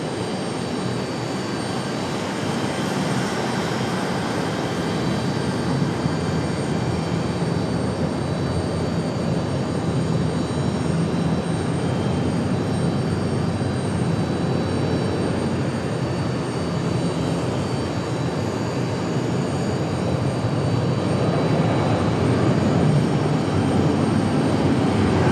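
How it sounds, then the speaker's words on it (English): A Delta Boeing 737 departs Raleigh-Durham for Los Angeles, its jet engine noise rumbling continuously, building louder toward the end as the takeoff roll intensifies. "Delta 508 back to Los Angeles. Going to be our next departure here, the 737."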